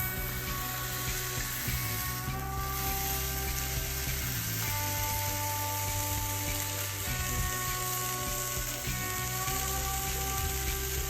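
A sausage sizzles steadily on a hot griddle after being smashed flat, a continuous loud frying hiss with faint scraping, no voices.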